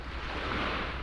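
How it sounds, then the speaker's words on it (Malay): Broadband rushing surf of sea waves washing onto a beach at a study site, a steady, fairly loud wash with no voices, continuous through the short stretch. "bunyi ombak ini dia memberi ketenangan kepada diri"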